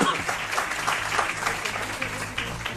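Spontaneous applause fills a radio studio during a morning political talk show, a close, steady patter of clapping hands lasting throughout, with speech faintly underneath.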